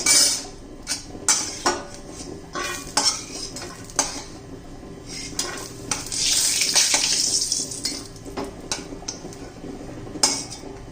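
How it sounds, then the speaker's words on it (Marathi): Roasted grated coconut is scraped out of a hot pan with a metal spatula, giving repeated close clinks and scrapes over a faint sizzle. "हे पहा आपलं खोबरं झालेलं आहे मी आता काढून घेते"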